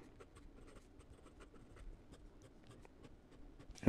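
A 1950 Parker 21 fountain pen with a fine nib scratches across paper in a quiet room, producing soft, close strokes in a steady irregular rhythm with no voices.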